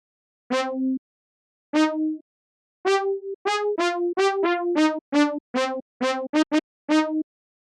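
Synthesized brass-like trumpet tone built in FL Studio plays a melodic riff of clear sustained and staccato notes, bright and buzzy, alone with no speech.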